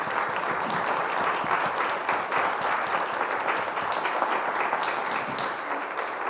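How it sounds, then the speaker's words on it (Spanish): Audience applauding panel guests at a cultural journalism talk, steady sustained clapping throughout with light crowd noise. "Les pido un aplauso para nuestros invitados."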